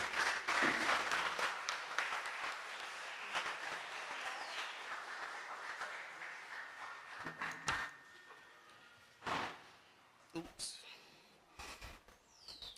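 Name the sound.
audience applause as the president comes to the podium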